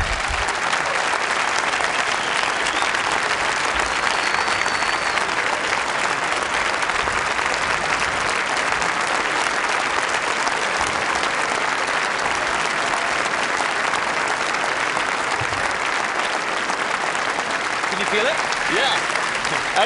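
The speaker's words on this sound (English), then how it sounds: "This is the first time I felt applause on the vest." A large audience at a TED talk breaks into long, dense applause, a continuous wash of many hands clapping loudly and evenly for about twenty seconds.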